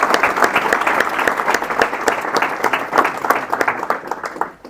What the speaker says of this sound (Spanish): os pido un aplauso a modo de agradecimiento